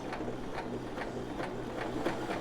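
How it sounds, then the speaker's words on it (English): A home sewing machine back tacks a few stitches to lock the end of a seam, giving a steady low mechanical hum broken by regular needle clicks. "back tack about 3 stitches, and then go forward again"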